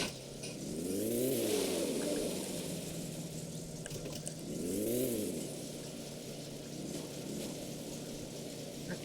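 A car engine in the My Summer Car video game revs up and falls back twice in slow rising-and-falling swells, a steady engine drone running through the rest at a modest volume with no talking.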